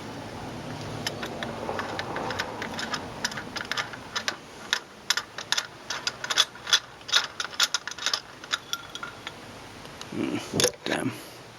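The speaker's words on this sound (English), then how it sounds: "So I'll just chuck a spark plug spanner in there." Spark plug spanner ratcheting on a Mazda MX5 engine during a basic service, a run of close, sharp ratchet clicks in irregular bursts with a quiet voice talking in the background.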